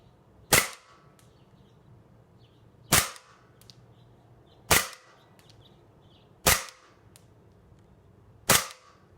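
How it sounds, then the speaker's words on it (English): An Umarex HK USP gas blowback airsoft pistol fires on green gas outdoors over an empty parking lot, five sharp, loud, evenly spaced cracks about two seconds apart, each with a brief metallic tail. "I'm gonna pull up a video real quick where we can see it being fired right now"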